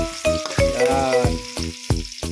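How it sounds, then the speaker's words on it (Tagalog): Onion and garlic sautéing in a frying pan for lumpia, a steady close sizzle broken by a few sharp stirring scrapes and clatters, no talking. "Gigisa lang natin guys. Gigisa lang natin."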